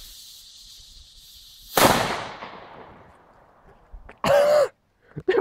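A sharp, loud D-Böller firecracker bang echoes and decays, followed by a second bang and a few smaller pops close by.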